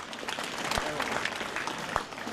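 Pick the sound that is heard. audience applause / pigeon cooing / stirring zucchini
audience applause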